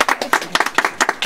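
Applause from a group of people at an artisans' village in Taricá, Huaraz, with close, brisk, steady handclaps in rapid bursts.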